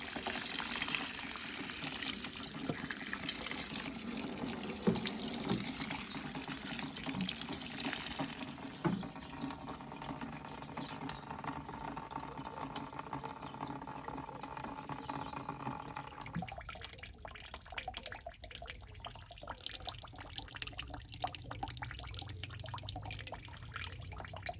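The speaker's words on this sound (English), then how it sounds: "the drilled hole at the bottom of the barbecue machine is just seeping out all the ash" Liquid fertilizer seeps and trickles steadily from a drilled hole at the bottom of a barbecue, a continuous close watery flow that changes character partway through, with no talking.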